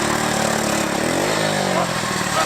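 A worn-out 125cc three-wheeler engine labours up a hill, its steady mid-pitched drone shifting as revs rise and fall, loud and close throughout.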